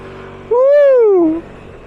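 Arora Cappuccino 50cc scooter revving as the throttle opens: one loud, close engine rise whose pitch climbs and falls away over about a second.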